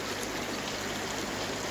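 Water percolates and rushes steadily through koi pond filters, a constant, dense, close trickling roar with no break and no one talking.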